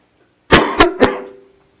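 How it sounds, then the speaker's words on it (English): Three quick, harsh coughs in a row into a microphone during a board meeting, close and loud, the last trailing off into a brief throaty rasp, with silence before and after. "Sorry if I'm coughing into the microphone."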